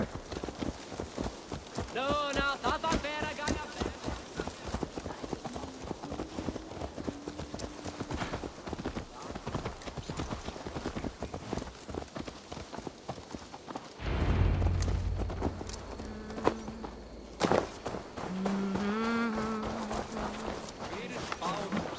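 Rhythmic hoofbeats of a horse in Assassin's Creed Valhalla, clip-clopping at a steady gait throughout, with a whinny and voices talking over the hooves.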